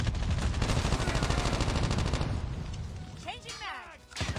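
A Type 25 rifle in Call of Duty Mobile fires in a rapid, sustained automatic burst, loud and close, which then trails off into mechanical clatter and whooshing effects, with a voice talking underneath.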